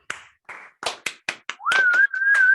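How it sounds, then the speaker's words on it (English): A few online meeting participants clap through open microphones, giving a sparse run of distinct, close handclaps. Near the end a sustained whistle-like tone sounds over them. "let's give Edward a round of applause."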